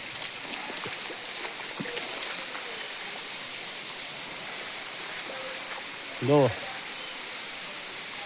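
Steady broadband rush of a waterfall in a forested area of Maharashtra fills the scene, with a brief spoken word near the end.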